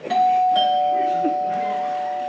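A loud, close doorbell chime rings with a sustained ringing tone that fades slowly, heard alone without talk.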